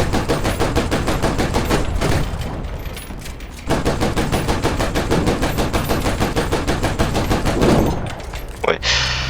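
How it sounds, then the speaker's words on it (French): Video game gunfire fills the clip with loud, steady automatic bursts of rapid shots. There are brief lulls as reloading happens, and the shooting stops near the end. "je recharge, mais en même temps je peux tirer"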